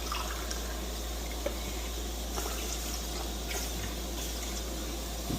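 Water pours steadily into a cooking pot of washed rice, a continuous soft splashing and trickling close by, with no talk over it.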